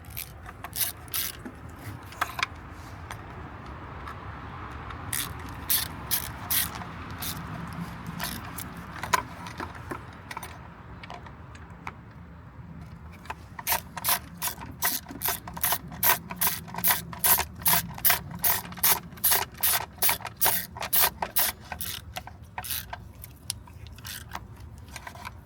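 Quick bursts of ratcheting clicks come from bolts being run down on a plastic injector harness on a VW Beetle's EA888 engine, close and sharp, in repeated clusters with mechanical rattles between.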